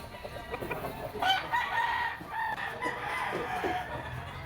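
Bull stag gamefowl rooster, a yellow-legged banderado sweater, clucking and giving short crowing calls close by at a Lipa, Batangas gamefowl farm, over steady outdoor background noise.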